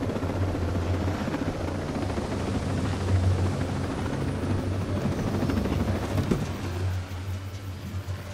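Drones fly in the video game Ghost Recon Breakpoint, a steady whirring rotor drone with a low pulsing throb that holds constant and loud the whole time, with no talk.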